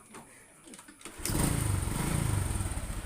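A Honda Supra X 125 motorcycle engine kicks into life partway through, then settles into a steady, close idle with a throbbing mid-pitched rumble after quieter background clatter.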